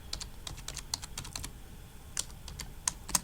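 Quiet, irregular tapping on a computer keyboard, with short bursts of clicks and separate keystrokes that include backspace presses, heard alone without talk.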